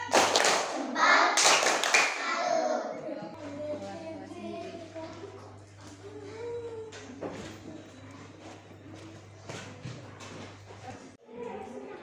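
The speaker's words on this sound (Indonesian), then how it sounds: "tepuk salut buat Mbak Winda. Tepuk salut." Schoolchildren in a classroom clap a rhythmic salute for their teacher, a burst of loud patterned hand claps followed by scattered taps and softer claps under a background hum.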